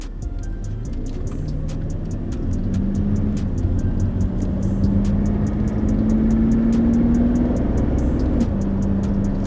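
A BMW E31 luxury coupe's engine drones steadily and rises gradually in pitch as it pulls up through the revs, with a faint regular ticking running over the hum.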